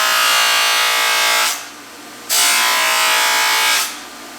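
A buffing wheel gives an antique Western Cutlery knife a heavy buffing, producing a loud, close, bright whirring hiss. The grinding sound comes in two long bursts with a short quieter gap between them as the blade leaves the wheel.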